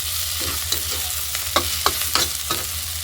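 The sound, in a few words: adding water to frying cauliflower curry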